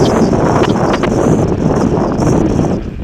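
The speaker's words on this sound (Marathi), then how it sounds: "वारच एवढं तुफान आहे" Loud, constant wind buffeting the microphone, a dense roaring rumble that barely lets up for the whole stretch, with no voices.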